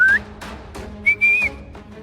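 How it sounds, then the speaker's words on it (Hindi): Someone whistles nearby in short, clear, high notes: a brief rising whistle, then a longer sustained tone, with faint shuffling and background noise in the gaps. "ये सीटी की आवाज कहाँ से आ रही है?"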